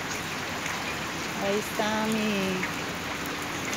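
Rain falls on garden plants, including a flowering bougainvillea and a palm, as a steady dense patter close by, while someone briefly speaks over it midway.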